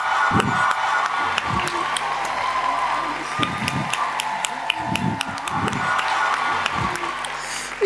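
An audience at a talk show claps for a guest walking onto the stage, a steady wash of applause with scattered sharp claps and a few low voices mixed in.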